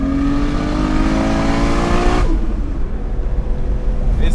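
A Nissan R34 GT-R with a single-turbo engine accelerates hard, its loud rising engine note climbing toward a 7,000 RPM shift, then dropping to a rougher, lower roar as it pulls again in the next gear.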